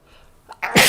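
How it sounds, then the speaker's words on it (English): A single close, loud human sneeze from a person with allergies, a short inhaled build-up followed by an abrupt sharp burst, with no talking around it. "my allergies are really acting up tonight, so that's why I'm sneezing so much."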